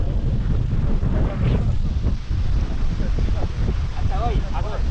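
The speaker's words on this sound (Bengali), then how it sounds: "হিউজ পরিমাণ বাতাস হইতেছে।" Strong wind by the Padma river at Rajbari buffets the microphone in a loud, constant rumbling roar, with a voice faintly audible under the gusts.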